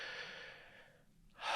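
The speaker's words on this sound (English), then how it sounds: "Nice big deep breath." A deep breath: a long, soft exhale fades to near silence, then a sharp, loud inhale begins, close and alone.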